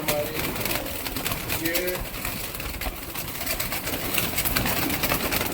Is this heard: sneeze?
no